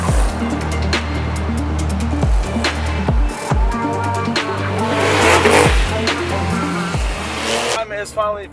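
Rebuilt Porsche 911 Turbo engine revving through repeated gear pulls on its first test drive, loud and close with rising and falling pitch, brief tire squeal, and voices talking over it.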